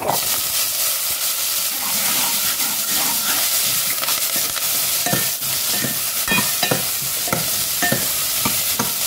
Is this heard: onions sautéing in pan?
yes